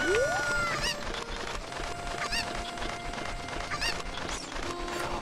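Chickens cluck and squawk in the video game Ocarina of Time randomizer, several close, busy calls scattered over a dense, continuous game soundscape with music.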